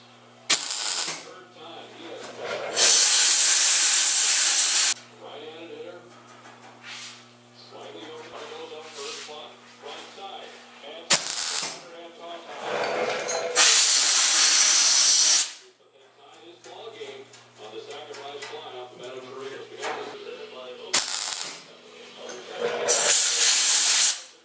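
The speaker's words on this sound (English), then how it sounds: "They're spot welding it in." Spot welding on a car quarter panel during a rear wheel well alteration on a Studebaker gasser: three long, loud bursts of harsh hissing crackle, each several seconds, separated by quieter stretches with people talking and a steady low hum.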